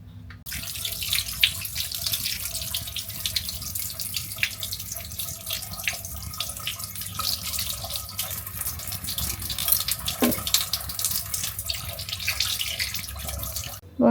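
Tap water runs steadily into a kitchen sink as fish is washed under it, a close, continuous splashing rush with occasional clatters, no voices.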